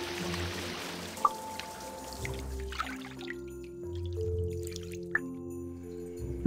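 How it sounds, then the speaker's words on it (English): Animated lullaby scene of warm water splashing in a bubble bath, with soft drips, trickles and light sloshing over gentle sustained musical tones, quiet and intermittent. "Splish splosh, Mo's in the tub. Warm water and bubbles."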